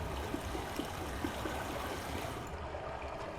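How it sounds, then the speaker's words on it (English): Water gurgles and pumps steadily through the windmill-driven hydraulics in the game Myst, a continuous low flowing rush with faint rhythmic pulses, moderately loud and alone. "You can hear the water gurgling and pumping."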